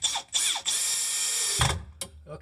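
A power drill drives screws into cabinet slides in short bursts, with a rising whir, a longer steady run, then a thud and a brief final spin, all close up.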